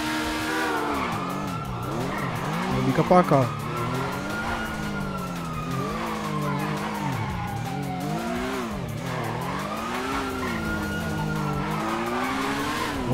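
A BMW R1250 motorcycle skids and screeches while fleeing in GTA V, with a continuous near engine whine rising and falling. A siren-like tone sweeps overhead, and a short burst of clatter comes around the three-second mark.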